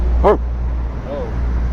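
One short, sharp bark from a puppy, close by, followed by a faint whine, over a steady low hum.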